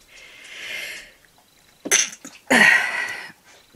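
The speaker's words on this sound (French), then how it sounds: "J'éternue beaucoup, je pense." A person with itchy eyes during allergy season sneezes loudly and close up, a sharp burst after a breathy intake, with quieter breathing before it.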